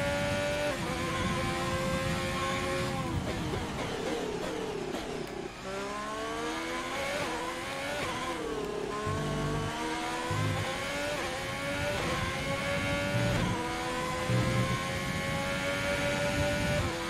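Formula 1 car in the racing video game F1 2020, its engine screaming continuously with rising and falling revs through gear shifts, loud and steady for the whole stretch with no voices.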